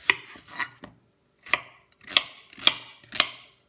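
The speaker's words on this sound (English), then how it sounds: "Big chunks because we're going to put it in a food processor" A knife chops an onion into big chunks on a cutting board: about seven crisp, sharp strikes in an uneven rhythm, close and clear with short quiet gaps between them.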